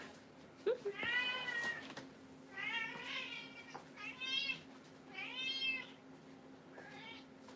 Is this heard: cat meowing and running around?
yes